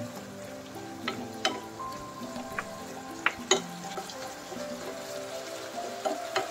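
Chicken breast dropped into sautéing sayote in a pan, a steady sizzle broken by a few sharp clinks and stirring scrapes, close and without speech.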